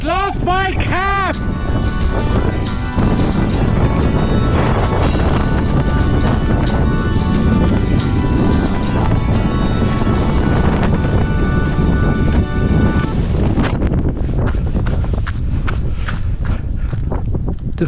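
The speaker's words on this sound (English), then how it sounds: "Windy up here though, very windy." Strong wind buffets the microphone on an exposed trail in the Dublin Mountains, a loud continuous roar with gusts, footsteps crunching and brief rustles running underneath throughout.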